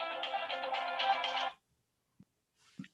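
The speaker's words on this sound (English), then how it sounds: "That's the corniest ringtone I've ever heard before in my life." A phone ringtone plays a bright, repeating electronic melody for about a second and a half, then cuts off abruptly, leaving near silence with a couple of faint knocks.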